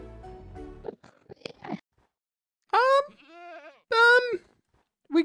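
A Minecraft goat gives two loud, wavering bleats close by, with small clicks and game noises before them and the start of a third bleat at the end.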